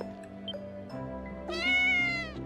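A cat in the video game Ys: Memories of Celceta gives a soft, clear meow, a short drawn-out call near the end after faint quiet background game sounds.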